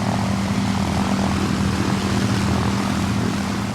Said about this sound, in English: The sound of 4 Merlins is something which is beautiful.